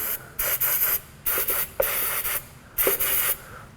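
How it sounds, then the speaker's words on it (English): Three separate bursts of aerosol spray hiss out in quick succession onto a sensor through its screen on a 2003 Nissan 2.5L engine, close by, with brief pauses between them. "I'm just gonna spray through the screen onto the sensor."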